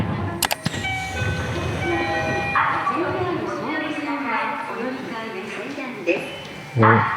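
A Tokyo commuter train rumbles steadily through a station area, with a continuous mid-level roar and squeal, brief sharp clacks near the start, and people talking over it.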